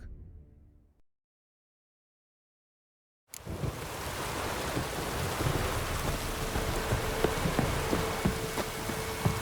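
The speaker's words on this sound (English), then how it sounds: "Midges were biting on account of this downpour." Heavy rain pours steadily in the video game The Witcher 3 after a brief silence, a dense wash of noise with occasional low rumbles, no voices.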